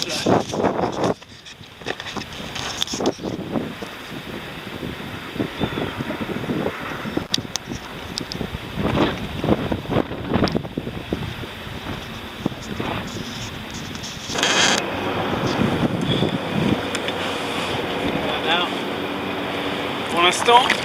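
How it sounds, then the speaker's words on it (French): Strong seaside wind roars and buffets the microphone continuously by a rising tide, a dense, rushing blast that swells louder toward the end. "Le vent est terrible."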